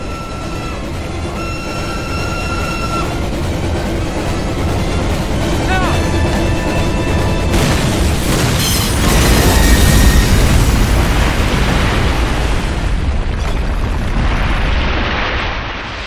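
A detonated explosion in the video game Call of Duty: United Offensive, a heavy roaring blast that swells and rumbles for several seconds after a steady mechanical drone with voices beneath it.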